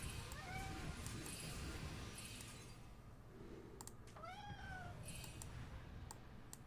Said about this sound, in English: my cat's letting me know something's up